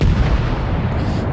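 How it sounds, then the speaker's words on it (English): Battleship main guns firing a salvo in World of Warships, a loud booming blast with a rumbling roll that fills the whole moment and fades slowly. "Salvo out, and the accuracy looks pretty laser cannon."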